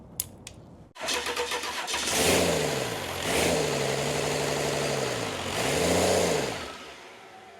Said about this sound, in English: Let's try it again and see if I can work this throttle and get it to run a little longer.